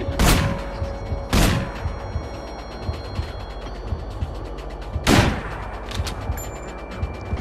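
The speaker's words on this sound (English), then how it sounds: "So now I can pick them off with the sniper." Sniper rifle shots in the video game Manhunt, three sharp, loud cracks spaced seconds apart over a quieter ambient game background.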